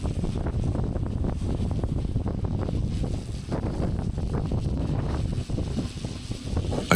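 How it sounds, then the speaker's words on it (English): Strong wind roars steadily and loudly across the microphone on an open, exposed road during a solo bikepacking trip through a remote region of China, a dense continuous buffeting rumble with gusty surges and no pause throughout. "the wind here is so strong"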